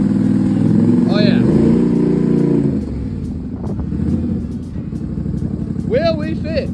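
Polaris Sportsman 850 Highlifter ATV engine revving loudly up close as it drives up into a truck bed, the rumble rising then settling to a lower idle, with people talking and a brief exclamation over it.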